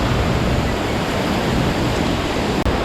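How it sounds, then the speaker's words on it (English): A waterfall in Costa Rica's Blue Falls and Catarata del Toro area gives a loud, steady broadband roar of rushing water that fills the scene without a break. "Waterfall behind there and then one here."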